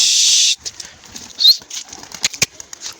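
Pigeons take off from a rooftop in a brief, close burst of flapping wings after a loud steady hiss. Scattered soft wingbeats and clatter follow.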